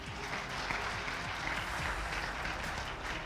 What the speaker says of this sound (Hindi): ताली बजा लीजिएगा